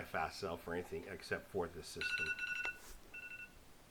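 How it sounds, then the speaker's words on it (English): An alarm chimes from a trading computer setup, a couple of short, steady electronic tones following speech, then a brief repeat, fairly quiet in the room. "That's the alarm saying it's 8:55"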